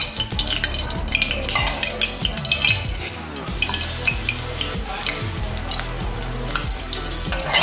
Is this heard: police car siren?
no